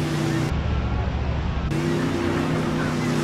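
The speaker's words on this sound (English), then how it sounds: "the audio has a rapid change to it, going from the normal speed to the slowdown speed of the clip." Vehicle or engine rumble playing at normal speed, then abruptly dropping into a slowed-down, slow-motion version and jumping back again, the shifts sudden and distinct in a steady, loud bed of noise.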